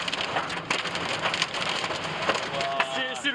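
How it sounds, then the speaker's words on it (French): Heavy thunderstorm rain pours steadily and loudly across a surface, with a dense, continuous hiss and a few sharper spatters throughout, and no thunder clearly standing out. "C'est le pire orage après Belgrade de cette saison."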